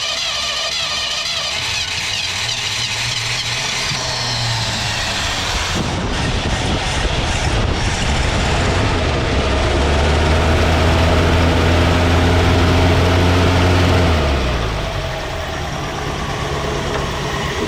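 A 1967 Ford Galaxie 500 V8, suffering from a bent push rod, cranks and then catches, its engine rumbling louder and steadier before settling back toward idle, heard close and alone.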